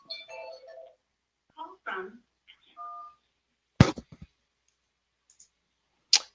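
Telephone keypad dialing tones for a live caller on a call-in talk show, a short run of tonal beeps amid brief talk, then sharp clicks near the end.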